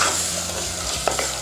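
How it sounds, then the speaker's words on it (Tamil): Tomato with mutton masala sautéing in a pan for Hyderabad mutton masala, a steady close sizzle with a few brief stirring scrapes near the end. "இப்போ நம்ம இதை நல்லா வதக்கிடலாம்."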